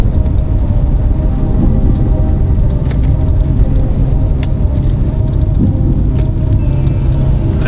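A failing car rolls along the road with a steady, loud low rumble of engine and tyres, the drone unbroken throughout with faint rattles over it.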